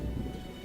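Rain falls steadily with a low rumble of thunder in The Witcher video game, a short, dense patter over a deep, rolling background, moderately loud and without voices.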